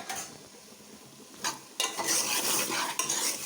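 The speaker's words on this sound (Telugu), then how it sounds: "ఇలా తిప్పుకోవాలి." Ridge gourd and okra pieces for sambar stirred in a pot, with clinking, scraping spoon strokes and a soft sizzle, close and busier in the second half, no voices.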